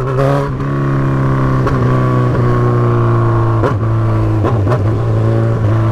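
A Honda CB1000 motorcycle with a straight, open exhaust pipe idles loud and close with a steady deep drone, punctuated by several sharp throttle blips that rise and fall quickly.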